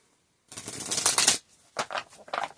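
Close-up riffle of playing cards, a long crisp burst followed by two shorter shuffles, fairly loud with no talking.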